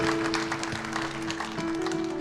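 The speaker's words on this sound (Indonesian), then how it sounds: "Tepuk tangan di atas kepala kita." A church congregation claps hands above their heads in rhythmic bursts, crisp and fairly steady over sustained musical tones that run throughout.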